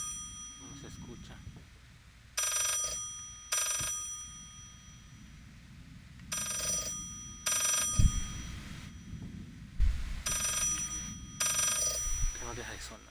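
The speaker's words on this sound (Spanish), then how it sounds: "Teléfono." A telephone keeps ringing in the horror game Layers of Fear: repeated double bursts of a bright bell, about four pairs over quiet ambience, interrupted by a few heavy thuds.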